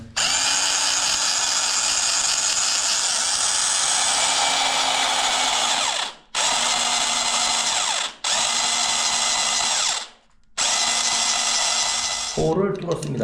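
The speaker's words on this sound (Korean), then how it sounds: "전동 공구동은 있고 여기에 비트가 있긴 있는데 이거는 목공용으로다가 쓰는 거지 아마 쇠를 뚫기는 어려울 것 같은데 일단 한번 시도를 해보도록 하겠습니다" Power drill fitted with a woodworking bit, boring into a metal bicycle part for a fender mount; a loud steady whine runs in four long bursts separated by brief stops, with a scraping rattle at the end.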